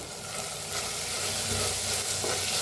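Spices including turmeric, coriander powder and red chilli powder roast in oil in a clay pot while being stirred, a close, dense sizzle with scraping stirs throughout and no voices.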